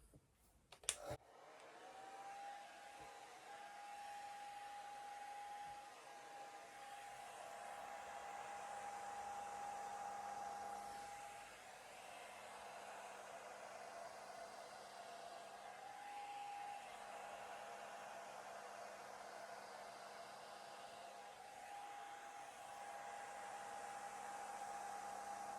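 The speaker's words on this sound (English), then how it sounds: "I've been asked questions about the hairdryer. It's a Remington and I always use the cool setting." A Remington hairdryer on its cool setting runs continuously, a steady close whirring drone with a sharp click as it switches on and slight pitch wobbles as it moves.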